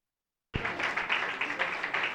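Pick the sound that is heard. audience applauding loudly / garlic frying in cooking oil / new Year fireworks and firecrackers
audience applauding loudly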